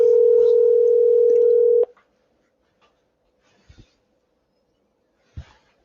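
A telephone handset held off-hook gives a loud steady dial tone for about two seconds, then cuts out, leaving near silence broken by a few faint clicks and soft thumps.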